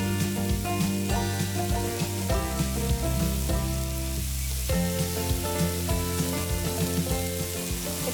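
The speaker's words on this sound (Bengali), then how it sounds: "1 চামচ ঘি দাও, দিয়ে এই ঘিটা গরম হলে এর মধ্যে 2টো শুকনো লঙ্কা দিয়ে দিলাম, পেঁয়াজের অনিয়ন রিংসগুলো দিয়ে দিচ্ছি, হালকা একটু ভাজতে হবে।" Onion rings and two dried red chillies fry in hot ghee, a constant bright sizzle heard beneath loud, continuous background music throughout, with no speech.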